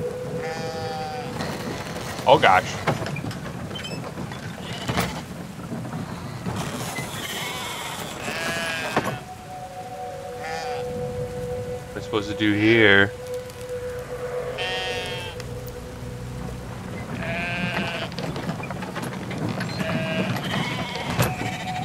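Sheep bleat again and again in the video game Brothers: A Tale of Two Sons. The bleats are scattered through the scene alongside game sounds, while a person talks at intervals.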